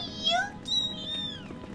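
A cat meows a couple of times up close, short rising and falling cries heard over faint background game sound.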